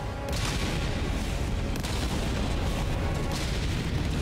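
A 380mm orbital barrage in the video game Helldivers 2, a dense continuous roar of heavy artillery impacts and rumbling blasts, loud and sustained without a break.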